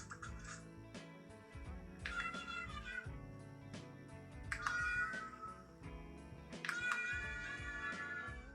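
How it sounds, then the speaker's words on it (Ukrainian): Synthetic electronic meowing from Gabby's Dollhouse interactive toy cat ears, three rising chirpy cat-like calls spaced a couple of seconds apart over a busy background of tinkly music. "А якщо натиснути на обидва вушка одночасно, ви активуєте режим нявкання."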